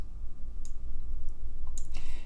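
Computer mouse clicking during design work with a width tool, a few sharp, close clicks spaced irregularly over a quiet room hum, with no voice.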